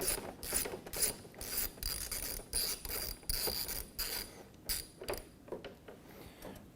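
Torx screw being removed from an Electrolux dryer during disassembly: rapid ratcheting mechanical clicks in repeated bursts, close and fairly loud, with no talking.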